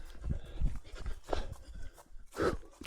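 Dog near a forest trail during a 50K trail race: a few muffled barks or huffs at a moderate distance, mixed with rustling and breathing from someone close by.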